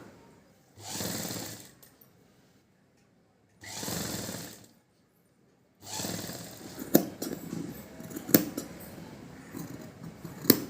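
Scissors snip through silk fabric while cutting a round neckline for a child's silk pavadai, in short separate bursts of close, crisp cutting, followed by a busier stretch of rustling and clicking.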